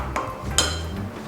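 Pashtida filling mixed with grated cheese in a bowl gives a few light clinks of a utensil against the bowl over a short stretch, with no voices.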